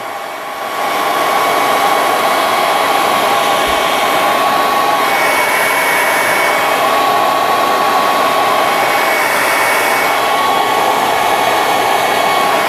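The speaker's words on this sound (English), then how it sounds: "Only use a hairdryer." Hair dryer blowing steadily and loudly at close range for the whole stretch, a constant whooshing hum used to heat and soften a resin part of a 1/72 Sinanju model kit.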